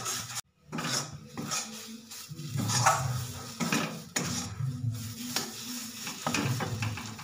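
Food being continuously stirred in a pan with a metal spoon, repeated scraping and clinking against the pan over a low sizzle, steady and close with no talk.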